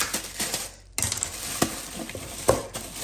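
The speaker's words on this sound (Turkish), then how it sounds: "Balıkları da kızartayım hemen." Fish frying in a home kitchen pan crackle softly, with faint sizzling broken by clinks and scraping stirs of a utensil against the pan at an uneven pace.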